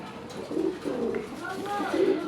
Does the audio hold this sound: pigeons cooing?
yes